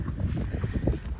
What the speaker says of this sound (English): The wind has really picked up, massive gale forces